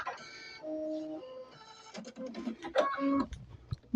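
An embroidery machine rethreading and starting to stitch, heard as close mechanical whirring tones, clicks and short motor pitches shifting in quick irregular bursts.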